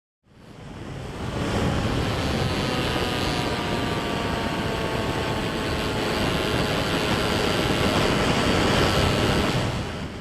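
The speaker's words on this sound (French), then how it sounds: "Ce que vous venez d'entendre, c'était l'agonie du moteur au moment où j'ai fait ma remise de gaz" A model aircraft's small motor whines through heavy wind rush during a throttle-up in flight, its pitch sagging and wavering as it strains and fails, loud and steady for about ten seconds.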